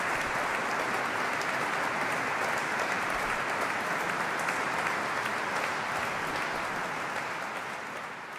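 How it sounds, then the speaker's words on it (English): Sustained, dense applause from a concert audience after a choral performance of Palestrina's Magnificat Primi Toni, steady and full throughout, fading slightly at the end. "I love how the audience paused before applauding"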